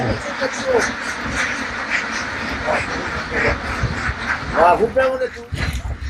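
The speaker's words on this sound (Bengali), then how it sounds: "শুধু হাঁস আর হাঁস সেখানে দেখতে পাবেন" Many ducks on a commercial duck farm quacking loudly and close, overlapping calls rising and falling in a busy, continuous chorus.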